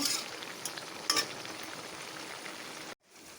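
Bean seeds frying in a wok, a quiet continuous sizzle with a few light stirring clicks, cutting off abruptly near the end.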